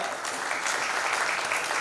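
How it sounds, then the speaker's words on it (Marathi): A rally crowd at a Dalit Panther gathering in Aurangabad claps steadily and loudly, a dense wash of applause filling the whole stretch with no break. "म्हणून जोरदार परत एकदा टाळ्या वाजवा"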